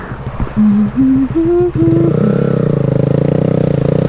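A 2020 Honda Grom motorcycle revs up through several quick gear shifts at full throttle, its close, loud buzzing engine note climbing in steps before settling into a steady high drone.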